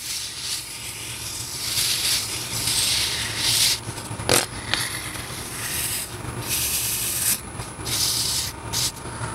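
Fine-grit sandpaper rubs against a turned wooden ornament spinning on a lathe, making a soft continuous hissing scrape that swells and fades with each pass over a low motor hum, with one sharp brief knock midway.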